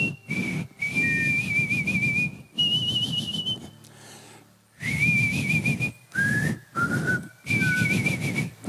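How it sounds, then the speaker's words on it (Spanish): Several people whistle a tune together in bright, wavering melodic phrases, loud and close, broken by short pauses, with a brief lull of murmuring near the middle. "Que empiecen silbando."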